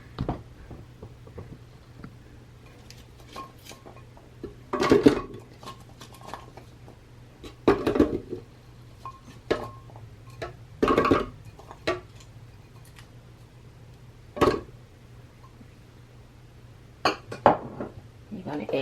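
Carrots dropped into a blender jar for beet-carrot-orange juice, a series of close, sharp clunks and clinks spaced irregularly over a low steady hum.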